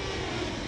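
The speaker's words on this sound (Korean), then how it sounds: "두 번째 시도 때 엔진 소리가 이상하리만큼 커 정말 무서웠다며" A Boeing 737-800 engine roars during an aborted takeoff, a brief, dense and steady broadband rumble heard from inside the cabin with no talking.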